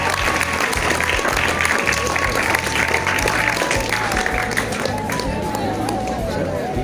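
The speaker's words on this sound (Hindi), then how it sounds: "जोरदार तालियों से स्वागत करिए ज्योति मिश्रा का।" Loud crowd applause greets Jyoti Mishra at a B.Ed students' farewell function, a thick, continuous wash of clapping that holds steady throughout, with crowd noise and a faint sustained tone underneath.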